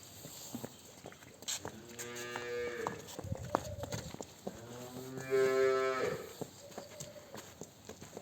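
Several long, deep moos from Holstein Friesian dairy cattle nearby, each call drawn out and separated by short pauses, with faint shuffling in the background.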